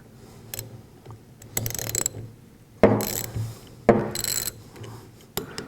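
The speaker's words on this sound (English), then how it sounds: "I like to use a socket because I have more control over it." A ratchet socket wrench works 10 mm bolts loose on a Cat piston pump, giving several bursts of clicking ratchet strokes separated by pauses, close and clear with no talk.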